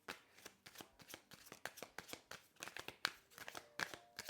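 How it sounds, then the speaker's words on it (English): Tarot cards are shuffled by hand in quick, close, crisp riffling bursts, a rapid irregular series of soft slaps and flutters at low volume. "I'm going to shuffle one more time."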